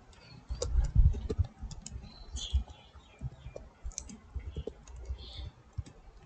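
Computer mouse clicks in a Chrome browser, with light, scattered ticks over low rumbling handling noise, close and without speech.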